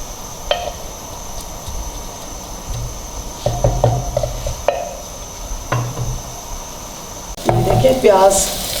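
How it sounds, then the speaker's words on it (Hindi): Onions fry in ghee in a handi with a soft continuous sizzle, broken by sharp stirring clanks and a louder scraping burst near the end, all close up and with no talking. "प्याज हमारा घी में फ्राई हो रहा है, ये देखिए"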